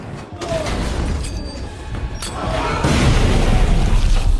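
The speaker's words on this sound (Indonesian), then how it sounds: "Ketika lift terbuka, dia menembak dan melemparkan granat." A grenade blast and gunfire in an action film scene, loud and booming with crashing debris, rolling on continuously for several seconds.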